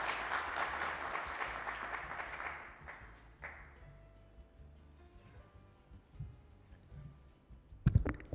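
Brief clapping from an audience at a national petroleum conference, fairly faint and fading out within a few seconds, followed by quiet room noise and a few clicks and knocks.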